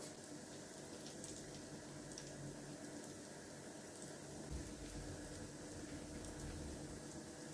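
Cape Malay koesisters, spiced doughnuts, fry in hot oil on high heat, giving a faint continuous sizzle and bubbling that stays even throughout, with no voices.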